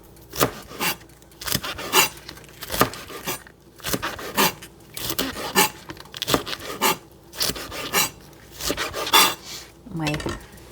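A knife slices rolled-up Swiss chard into thin strips on a cutting board, rhythmic close chopping strokes in repeated short bursts.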